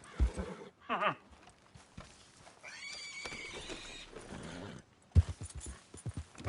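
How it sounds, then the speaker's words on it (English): A horse in Red Dead Redemption 2 whinnies and snorts, with scattered clip-clop hoofbeats and a brief spoken remark, fairly quiet overall. "Stupid horse."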